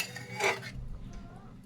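Fried eggs are stirred into an egg curry in a pan with a brief, close clatter and scrape of a spoon against the metal, followed by a low, soft simmer.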